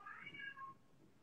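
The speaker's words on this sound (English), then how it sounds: "Our cat is meowing." A house cat gives a single drawn-out meow, fairly faint and close, followed by quiet room tone.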